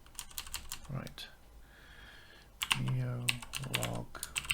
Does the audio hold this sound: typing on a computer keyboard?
yes